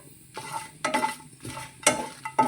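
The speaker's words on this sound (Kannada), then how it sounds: "ಮತ್ತು ಎಣ್ಣೆಯಲ್ಲಿ ಸ್ವಲ್ಪ ಫ್ರೈ ಮಾಡ್ಕೊಬಿಡ್ತೀನಿ" Food frying in coconut oil in a pan for a Mangalore-style basale spinach curry, with repeated scraping stirs and sizzling bursts coming in a steady rhythm, close and fairly quiet.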